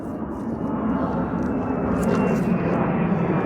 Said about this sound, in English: Aeroplanes are coming over,